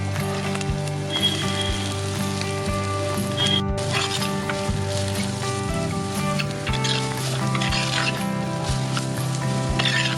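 Chopped onions sizzling in hot oil in a pan for a Kerala-style egg roast, a steady, close crackling hiss that holds for about ten seconds over a faint background hum.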